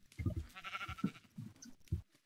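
Sheep in the video game Minecraft bleat repeatedly, several short wavering calls close by over about two seconds, with no talking.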